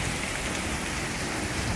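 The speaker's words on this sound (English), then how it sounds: "I see chunks of hail the size of golf balls coming down." Golf-ball-sized hail coming down in a storm in Scranton, Pennsylvania, a dense, steady roar of pelting impacts that never lets up.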